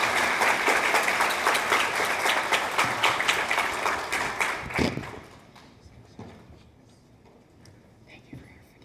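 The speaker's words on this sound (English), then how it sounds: "Please give him a round of applause." Applause at a student leadership recognition ceremony rises loud and full, then drops off sharply about halfway through, leaving a few stray claps and quiet room noise.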